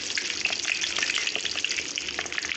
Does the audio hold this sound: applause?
no